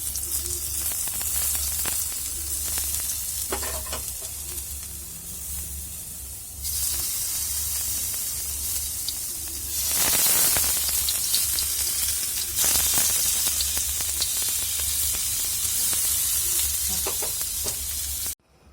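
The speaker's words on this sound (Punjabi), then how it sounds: "ਪਨੀਰ ਨੂੰ ਹਲਕਾ ਜਿਹਾ ਰੋਸਟ ਕਰਾਂਗੇ" Continuous loud sizzling and hissing of paneer roasting in a hot pan, with occasional stirring scrapes and surges in intensity.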